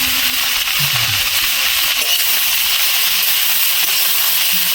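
Tomatoes sizzle steadily in a hot pan while being stirred for a tomato pickle, a loud, constant frying hiss with faint scraping from the spoon.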